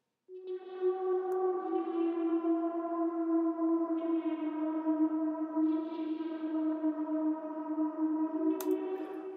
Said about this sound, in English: Little lead that only happens in the outro, super atmospheric, a lot of reverb